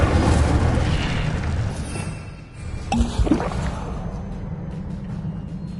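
An Incendio fire spell cast in a Harry Potter style game, a loud roaring burst that swells, dips, then flares again in a sharp blast near the middle before settling into a sustained rumble.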